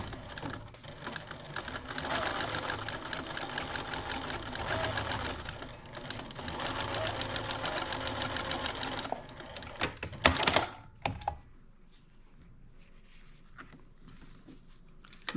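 A sewing machine runs a long continuous stretch stitching a seam on a Thanksgiving table runner, with a rapid patter of needle strokes, before it stops and gives way to a few handling knocks and near quiet.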